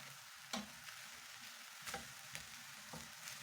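Minced beef with minced garlic and ginger frying in a pan as it is stirred and broken up, giving a soft, steady sizzle punctuated by a few sharp spatula clicks and scrapes, with no talking.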